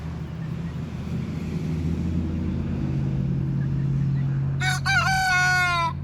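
A backyard rooster crows once near the end, a loud, close cock-a-doodle-doo that rises over a steady outdoor hum of traffic or engine noise.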